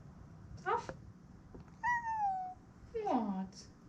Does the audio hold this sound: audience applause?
no